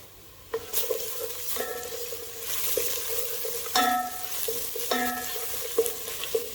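Ground garam masala, black pepper and crushed cumin sautéing in a pan for a moong and masoor lentil dish, a steady soft sizzle broken by several short stirring scrapes of a spoon against the pan, with no voices.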